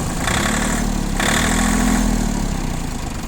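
Iseki TU165 compact tractor with a three-cylinder engine running steadily at a smooth, even idle, close by and continuous, with a slight rise in revs partway through.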